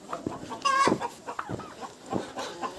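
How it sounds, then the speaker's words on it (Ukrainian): A hen clucks several times nearby in a Ukrainian village poultry yard in winter, short throaty calls with one louder squawking burst, against faint outdoor background noise. "Курка свариться, та що залишилась у качок."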